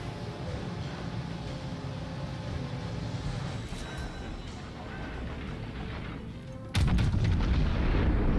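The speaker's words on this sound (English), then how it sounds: "Cheeky little bastard shooting HE at me." Heavy naval gunfire from the Musashi battleship in a warship video game, a dense rumbling barrage of HE shell fire that swells into a louder, deeper boom near the end, with no talk.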